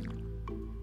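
Watering crops in the farming game Stardew Valley: a short wet dripping splash of poured water, soft and close over a steady low background hum.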